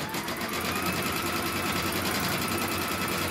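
A sewing machine stitches an edge-to-edge quilt, its motor running in a steady, continuous hum and rapid needle clatter throughout, close and alone.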